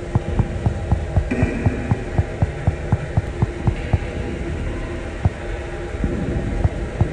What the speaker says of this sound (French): On entend le bruit des backrooms.